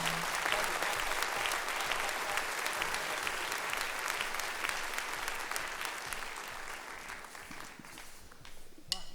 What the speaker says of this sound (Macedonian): Аплауз ве молам.